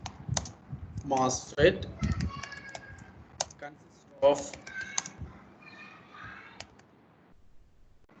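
A computer keyboard clatters in bursts of quick keystrokes, recorded during an electronics lecture on MOSFET characteristics; the typing is fairly close and comes in uneven clusters while someone speaks intermittently over it.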